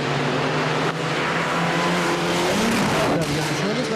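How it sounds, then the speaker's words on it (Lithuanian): Subaru rally car jumping and racing on a gravel stage at the 300 Lakes Rally, engine roaring and shifting pitch as it passes, with a commentator talking over the noise throughout. "Dar vienas šuolis, Subaru šoka. Taip, Mitsubišis irgi."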